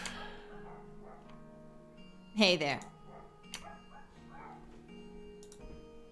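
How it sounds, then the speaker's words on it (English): A dog outside gives one short, distant bark partway through, faint beneath indoor game music with a steady ticking, while someone speaks briefly. "Lots of barking going on outside."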